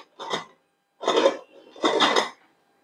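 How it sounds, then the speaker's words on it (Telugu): Three short metallic clanks and scrapes of a pressure cooker lid being fitted onto the cooker, close and distinct, separated by brief quiet gaps. "ఇప్పుడు కుక్కర్ మూత పెట్టేస్తున్నాను"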